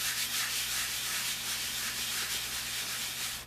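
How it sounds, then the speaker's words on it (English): A sanding block rubbed over a gesso-coated muslin art journal page, giving a steady close-up scratchy rasp of back-and-forth strokes that carries on continuously without pauses. "You don't have to put pressure on that sand block."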